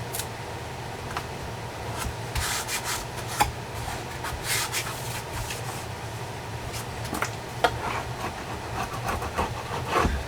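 A hand roller presses litho plate tape onto an aluminum panel while an F-14D Tomcat model is being built. Soft, uneven rubbing and rasping strokes come close by, with a few sharper ticks along the way.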